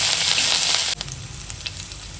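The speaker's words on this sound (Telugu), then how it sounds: "ఈ పోపు అంతా కూడా ఎర్రగా వేయించుకోవాలి." Curry leaves and three chillies fry in hot oil for a tempering, a loud, close crackling sizzle that suddenly drops to a quieter hiss with a few faint stirring taps.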